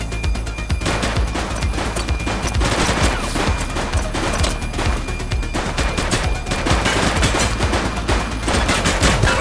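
Sustained rapid gunfire from a police video game shootout, dense overlapping shots and bursts firing continuously and loudly for the whole stretch with no talking.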